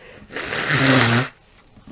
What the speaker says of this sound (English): I'm gonna blow my nose again.